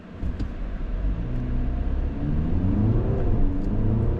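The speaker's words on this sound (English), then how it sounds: "Okay, so now we're going to launch the Skoda Superb." A Skoda Superb diesel pulls hard in a full-throttle launch, its engine note climbing through the gears over a loud, rumbling road and cabin roar.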